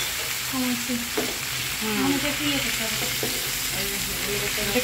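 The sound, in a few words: ramen sauce with soy and tomato sauce cooking in pan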